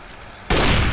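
Gunfire in Counter-Strike: Global Offensive erupts as a sudden, loud burst halfway through, after a quiet start, and holds a dense, sustained roar to the end.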